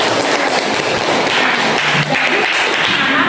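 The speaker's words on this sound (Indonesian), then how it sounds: "tepuk tangan" A class during a teaching practice session breaks into applause, a continuous, fairly loud rush of clapping from many people filling the whole stretch without pause.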